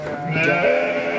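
Garut sheep bleat on a farm, a sustained wavering call from one animal fairly close, steady and clear with a faint background murmur.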